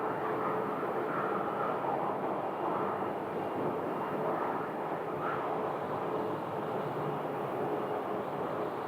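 An airliner landing on runway 8 at Phoenix airport, heard as a steady, fairly distant jet roar that holds level throughout, with no talk.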